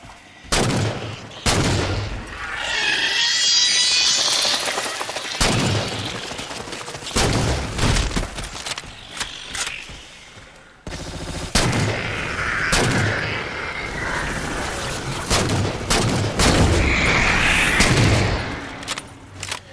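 Rapid gunfire in Halo 4 as crawlers are shot during the Infinity mission on Legendary, with repeated sharp bursts and heavy booming shots in close succession across the whole stretch, loud and without talk.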